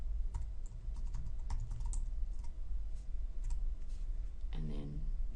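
Typing on a computer keyboard while entering a section title in a Word document, a steady run of close, light key clicks over a constant background hum.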